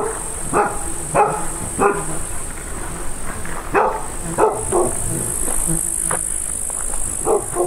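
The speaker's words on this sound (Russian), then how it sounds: "Вдруг неожиданно залаяла собака вон оттуда," An unseen dog behind a woodpile in a rural forest village barks repeatedly in irregular bursts, some sharp and loud, others fainter, with brief low talk mixed in.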